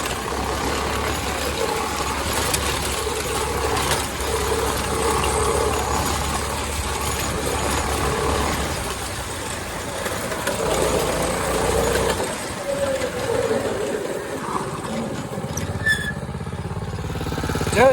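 A homemade go-kart engine runs continuously, a rough droning rumble with rattling and squeaks as it moves over bumpy ground outdoors, fairly loud and steady before easing near the end.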